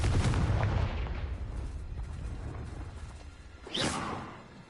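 A Confringo fire-blast spell cast in Hogwarts Legacy, a loud booming burst that rumbles and fades, followed by a second sharp whooshing blast near the end.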